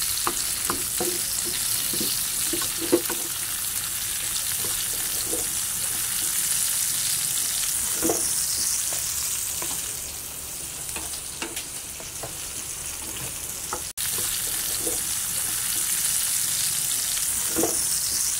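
Garlic and onion fry in a pan with a continuous close crackling sizzle, punctuated by scattered stirring clinks and scrapes, with no voices.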